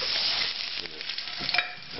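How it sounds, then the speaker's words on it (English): Browned potatoes are tossed into a baking dish with butter, giving a steady, close, moderately loud sizzle with soft scraping and shuffling textures and brief louder bursts. "Toss the potatoes in the baking dish here with the butter."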